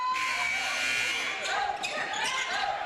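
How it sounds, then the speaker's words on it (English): An inadvertent buzzer sounds as a steady electronic tone during a women's college basketball game between Bellevue and Jamestown. It plays under a commentator's voice and the hum of the gym crowd. "Inadvertent buzzer."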